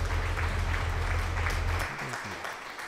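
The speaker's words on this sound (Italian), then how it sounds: "E adesso scatta un bel applauso." Applause for channel moderators during an Italian Twitch stream, a dense wash of clapping that holds steady, then thins slightly as a voice begins speaking over it.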